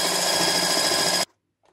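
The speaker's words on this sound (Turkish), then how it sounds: "Şimdilik ben güzelce çırpıyorum." An electric mixer whisks eggs and sugar for a wet cake batter with a loud, steady whine that stops abruptly after a second.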